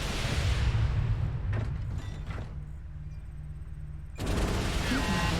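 Mech weapons in MechWarrior Online unload a full volley, with a Hellfire mech firing in heavy, layered bursts of booming shots and mechanical whirs that die down briefly before another loud salvo erupts.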